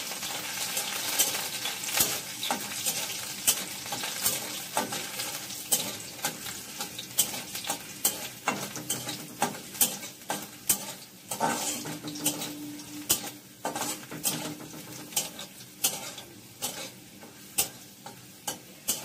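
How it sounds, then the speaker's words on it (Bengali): Chopped garlic fries in hot oil with chili for a masoor dal dish, giving a steady close sizzle broken by frequent sharp scrapes and clicks of a spatula stirring the pan, with no talking. "রসুন কুচিটা একটু লাল লাল করে ভাজা হয়ে গেলে"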